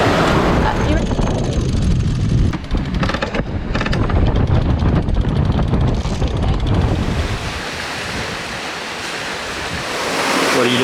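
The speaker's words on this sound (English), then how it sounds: "The wind's picked up to 20 knots" Strong 20-knot wind at sea buffets a sailing boat, loud gusty roaring and microphone buffeting over the rush of waves against the hull, easing slightly toward the end.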